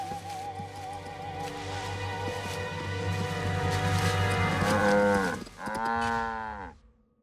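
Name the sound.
cows mooing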